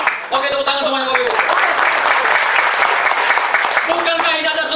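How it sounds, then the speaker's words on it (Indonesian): A seated audience at a sales training seminar breaks into loud, sustained applause that fills the room, with a voice speaking over the clapping at the start and again near the end. "Oke, tepuk tangan semuanya Bapak Ibu."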